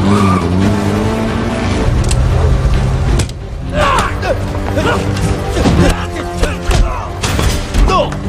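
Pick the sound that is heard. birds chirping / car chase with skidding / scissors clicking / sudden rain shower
car chase with skidding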